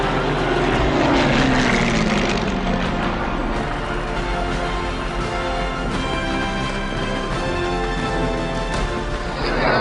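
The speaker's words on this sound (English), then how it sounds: "planes zooming overhead in huge formations." Propeller aircraft flying overhead in large formations above crowded Paris streets, a loud continuous engine drone that swells and holds steady throughout, with no talk.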